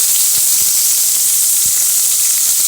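Onion, garlic and ginger frying in hot oil, giving a steady, loud, close hiss and sizzle with a few faint pops underneath, no voices.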